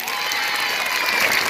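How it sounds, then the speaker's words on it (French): A large school crowd at an academic day event in a secondary school applauds the principal, dense steady clapping that holds at full strength throughout without pause. "On applaudit encore Madame le Proviseur."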